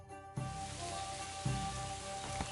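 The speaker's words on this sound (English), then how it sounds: "Pissing down rain." Heavy rain in a video game sets in abruptly as a dense, steady hiss, with a soft thud and a rise in loudness partway through.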